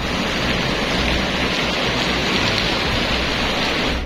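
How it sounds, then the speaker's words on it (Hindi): Heavy rain pours steadily onto flooded streets in Medina, Saudi Arabia, a dense, unbroken wash of falling water and runoff that stays loud and close throughout, with no voices. "खाड़ी देशों के कई शहरों में आजकल सैलाब और बारिश ने तबाही मचा रखी है"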